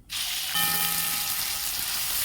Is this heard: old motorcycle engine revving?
no